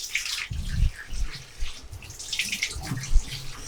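Raw chicken is washed under a running tap, with uneven splashing bursts and trickling water close by, rising and falling as the pieces are rinsed.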